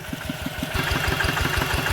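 A Kubota single-cylinder 9.5 hp engine running a water pump idles at low revs with a steady, fast chugging thump, close and continuous, with no voices.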